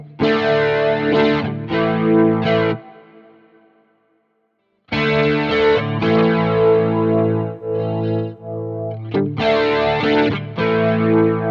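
Distorted electric guitar chords ring out with a hollow, swirling flanger sweep from a Quad Cortex, pausing once as a chord fades to silence before resuming.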